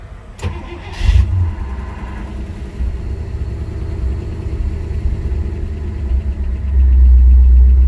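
A 1966 AMC Rambler Rebel with a 327 V8 and Holley Sniper EFI cranks briefly, fires up and settles into a steady, close, rumbling idle that swells louder near the end.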